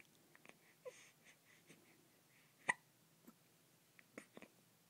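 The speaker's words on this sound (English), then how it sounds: "You tell those mean old hiccups to go away." Several small hiccups, probably from a baby, come as short isolated spasms spread irregularly across a quiet room, with one sharper and louder hiccup in the middle.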